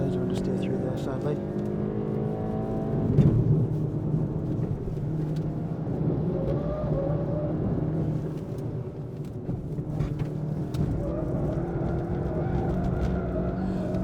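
Track test car on a race circuit with a tyre squealing through a corner under understeer, over a steady engine drone and road roar; a driver talks throughout.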